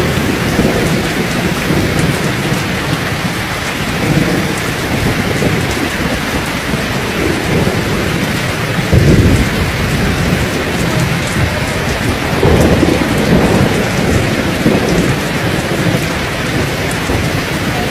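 Heavy rain pours down in a powerful summer thunderstorm over Ontario, a loud dense roar with deep rolling thunder swelling twice, near and unbroken.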